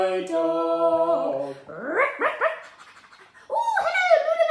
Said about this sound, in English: Let's wave goodbye to the dog, everybody!